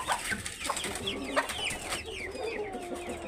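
Young Australorp chicks on a farm give thin, rising peeps and soft clucks, several birds calling close by in a busy, chattering overlap.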